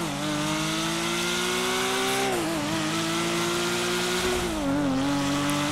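A Porsche 911 engine in GTA 5 hums at steady revs while carving through narrow side streets, pitch dipping and rising twice as it shifts or lifts, loud and continuous with faint tire noise and no talking.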